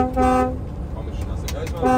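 A timber truck's horn toots twice loudly and close by, a short steady honk at the start and another at the end, with a vehicle rumbling underneath and someone talking between the blasts.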